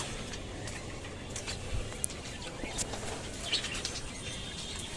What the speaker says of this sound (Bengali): এই যে দুই জোড়া কবুতর